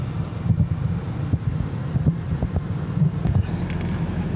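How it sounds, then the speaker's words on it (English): Strong wind with rain buffets the microphone in continuous rumbling gusts on a forest walk in Sligo, Ireland, with no voices, just a rough, blustery roar throughout. "the weather is really very windy and it's raining as well"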